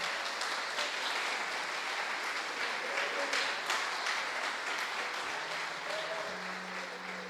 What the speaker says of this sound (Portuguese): Quem pode aplaudir esse Deus Todo-Poderoso?